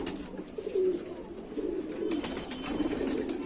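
An Indian Rampuri pigeon coos close by in a steady, low, rolling murmur that swells and dips over several seconds, a few faint clicks and rustles around it and no speech.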